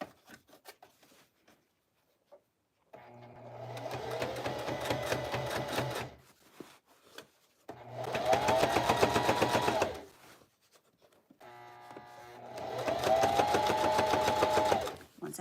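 A sewing machine stitches across the top seam of fabric in three separate runs of about three seconds each, with short pauses between them. The motor hum and needle clatter are steady and close.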